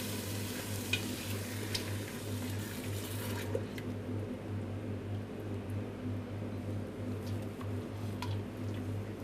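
Chana masala sizzling gently in a pan as 400 ml of tomato passata is stirred through, a steady low bubbling hiss with faint scraping of the spoon and a few soft ticks, close and continuous with no talk.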